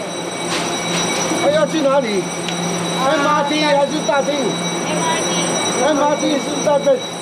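An MRT metro train rumbles along steadily with a constant mechanical hum, while several people talk over it throughout.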